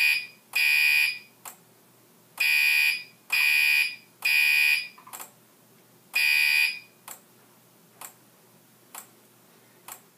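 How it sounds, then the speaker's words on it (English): Electronic fire alarm panel in general alarm, beeping in loud, bright bursts of uneven length, with sharp clicking ticks between them, no voices. "See, the panel says general alarm."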